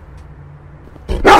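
A neighbour's dog barks loudly at close range in a short burst of yips and barks that breaks in suddenly after a stretch of quiet background hum.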